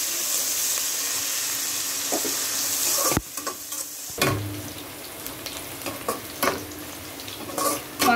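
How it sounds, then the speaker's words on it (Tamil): About 200 grams of onions fry in oil for mutton biryani. A dense hiss cuts off abruptly, then irregular scraping stirs continue over a softer sizzle, close with no speech. "வெங்காயம் நல்லா வெந்து செவந்து வரட்டும்."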